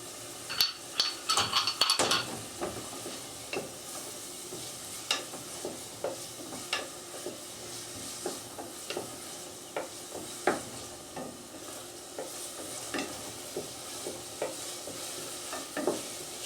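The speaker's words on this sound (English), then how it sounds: "I'm going to stir that around till the onions start to break down a little bit." Onions cooking in a pan while being stirred, with repeated spoon scrapes and knocks over a continuous soft sizzle, close by, busiest at the start.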